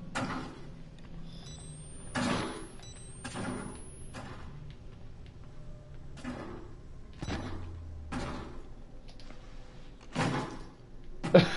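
In the horror game Outlast: Whistleblower, a series of door thuds and slams comes at irregular intervals, with one heavier slam near the end, against a quiet, dark ambient background.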